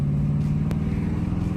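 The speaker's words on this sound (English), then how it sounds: "So I'm about to give y'all a few pulls right now and everything." A loud, deep, close drone comes from a 2017 Dodge Challenger with a muffler delete and straight-piped exhaust in sport mode, holding a steady pulsing rumble through a brief moment with one short sharp click.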